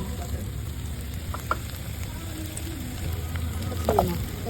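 Butter sizzles and fries in a pan for white pasta, a steady crackling hiss with faint stirring scrapes, close up and without talk.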